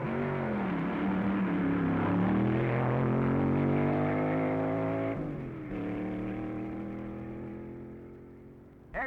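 Engines of 1961 drag racing cars roar loud and close through an elimination heat at the U.S. Nationals, a sustained rising howl that dips and resumes as the cars pull away.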